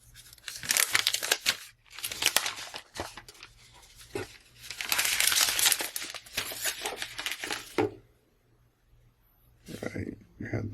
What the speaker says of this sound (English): And go ahead and pull off the plastic.